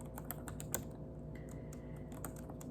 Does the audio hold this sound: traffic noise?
no